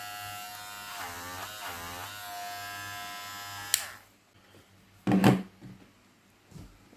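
A Hatteker SK 1619 electric shaver runs with a steady high buzz for several seconds, then clicks off, followed by a few handling knocks and clatter.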